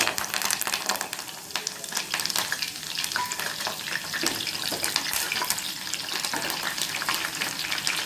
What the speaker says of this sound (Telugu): ఈ ఆయిల్ బాగా వేడిగా ఉంది కాబట్టి దీనిలోనే మనం గార్నిష్ కోసం అనేసి ఉల్లిపాయలు, పచ్చిమిర్చి, కరివేపాకు కూడా వేస్తున్నాను.